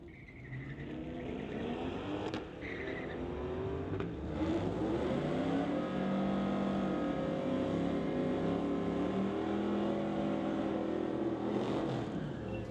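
Engines from a 2001 Ford and a 2021 Corvette drone steadily at a street-legal drag race, a loud, sustained mix of revving and whirring that rises and shifts in pitch, heard from a distance without talk.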